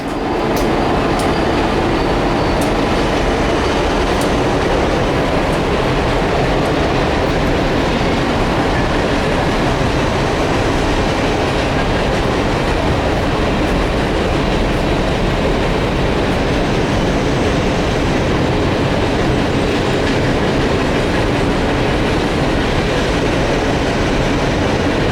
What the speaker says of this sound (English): an Ennis coal train rolled by